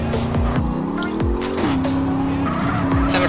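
Cars racing in the MTA:SA video game, with loud engine whines rising and falling through gear shifts and tire squeals, continuous and close, with players talking now and then.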